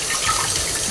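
Tap water gushing steadily over raw chicken at a kitchen sink, a brief loud continuous splash.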